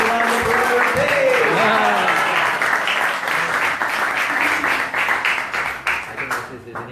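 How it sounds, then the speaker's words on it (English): Applause breaks out during a Sunday talk at ISKCON Newcastle, a burst of clapping that starts alongside a voice calling out at the start, then carries on as scattered, uneven claps that thin out toward the end. "Please give Keshavananda Prabhu a big round of applause"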